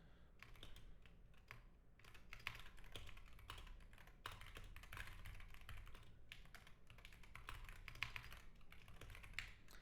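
Steady typing on a computer keyboard, a continuous run of soft, close-up key taps in uneven bursts, heard alone at low volume without any talking.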